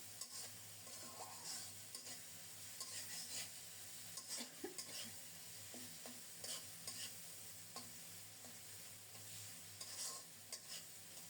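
Ginger, garlic, coriander and cumin masala being stir-fried in a pan, where soft scraping strokes and occasional utensil taps sit over a faint, low sizzle with no voices.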